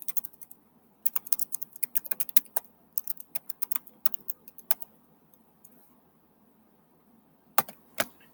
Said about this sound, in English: I'd type it right here inside of your page title